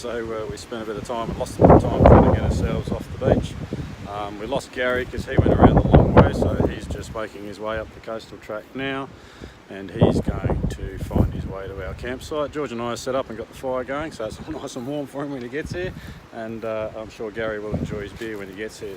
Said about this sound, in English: So it's a bit windy, so apologies if the audio is a bit crap